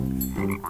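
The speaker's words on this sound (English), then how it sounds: "Oh, it's a frog." A frog gives a short, low croak up close, a single throaty burst that rises slightly at the end, with no talking.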